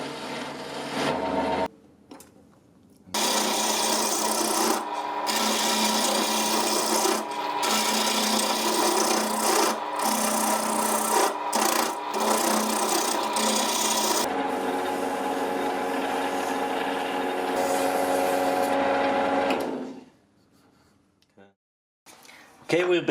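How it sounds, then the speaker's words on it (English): Walnut blank for a chisel handle spinning on a wood lathe as a tool cuts it, a loud continuous rasping scrape broken by short gaps, which ends abruptly near the close of the clip. "I've used his lathe to start the handle for the chisel. And I'm turning here some walnut."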